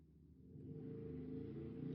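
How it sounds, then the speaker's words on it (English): A motorcycle passing outside, a low engine rumble rising steadily and growing louder over two seconds, heard faint and indoors. "sorry for the motorcycle sounds"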